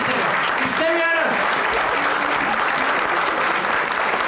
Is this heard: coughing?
no